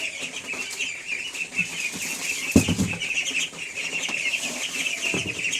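Ducks on a duck farm before feeding make a busy chorus of close quacking and chatter, with a sudden burst of flapping wings midway.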